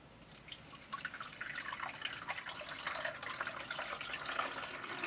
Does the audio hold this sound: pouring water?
yes